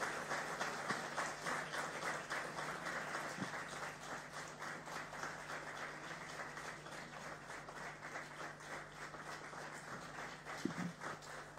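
Sustained applause from an audience at a felicitation ceremony for public service commission rank holders, a steady wash of clapping lasting throughout at moderate distance, with faint scattered noises beneath.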